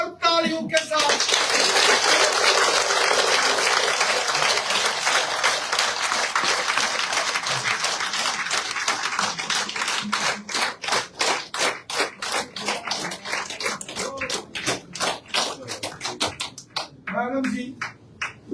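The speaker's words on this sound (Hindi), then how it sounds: "जोरदार तालियों के साथ" A crowd at a political gathering in Poonch, welcoming a leader who is joining the BJP, breaks into loud, dense applause. It holds for several seconds, then thins into scattered individual claps that fade toward the end.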